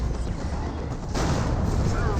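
Plasma gunfire in the real-time strategy game Dawn of War 2, Elite Mod, as a Terminator unit fires: dense, continuous crackling bursts with a low rumble that swells louder partway through, mixed into busy battle noise.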